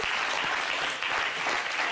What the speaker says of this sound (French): On applaudit pour notre capi.